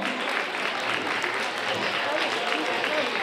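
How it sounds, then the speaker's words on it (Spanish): Audience at a children's carnival with workshops clapping, a dense, steady patter of many hands at moderate loudness, with voices mixed into the crowd noise. "Un aplauso, ¿no?"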